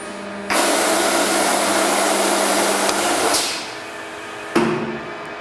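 Door machining center on auto feed, clamping and cutting a door: a loud steady broadband whir of the cutter and dust extraction starts abruptly, runs for about three seconds, then winds down, followed by a sharp clunk.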